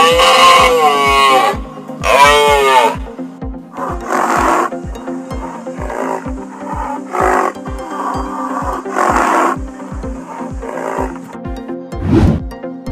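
A rhinoceros gives loud, drawn-out groaning bellows and grunts, heard in bursts over an evenly spaced mechanical ticking beat that runs throughout.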